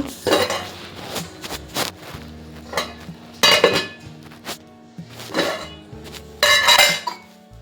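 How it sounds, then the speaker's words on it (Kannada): Metal utensils clatter and scrape against a pan in repeated bursts, a spatula stirring mushrooms as they fry, close and fairly loud, with no talking. "ನೀರು ಬಿಡೋ ತನಕ ಫ್ರೈ ಮಾಡ್ಕೊಳ್ಳೋಣ ಮಶ್ರೂಮ್ನ"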